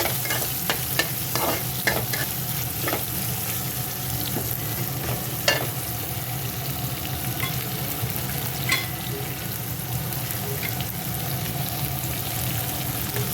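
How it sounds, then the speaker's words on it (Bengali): Onions frying steadily in a pan over a low-to-medium gas flame, a continuous close sizzle broken by scattered scraping and stirring clicks of a spatula throughout. "এবার পেঁয়াজগুলোকে কিন্তু ভালো করে ভাজতে হবে"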